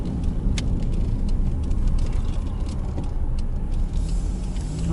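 A car rolls slowly around the entrance of a gurdwara in Brampton, Canada, its engine and tyre noise a steady close rumble for the full stretch, with no talk over it.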